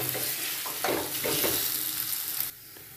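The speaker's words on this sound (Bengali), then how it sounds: "কাশ্মীরি লঙ্কা দিয়ে আমি একটু নেড়ে নেবো ভালো করে" Kashmiri chili being stirred into a mixture in a pan, a short burst of sizzling with a few scraping spoon strokes before the sound drops off abruptly.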